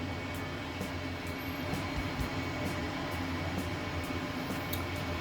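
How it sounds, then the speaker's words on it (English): A bus idles by a house at its stop, a broad, steady engine rumble and hiss that stays constant and fills the whole background at a moderate distance. "Sorry about the noise. It is unfortunately a bus, because the bus has to stop right next to my house"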